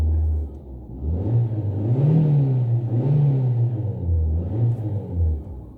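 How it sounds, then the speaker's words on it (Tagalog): A car engine runs after a misfire repair, a close, low rumbling idle that rises and falls through several gentle revs, smooth and fairly quiet with no talking. "So as you can hear, the sound of the engine is a little bit good."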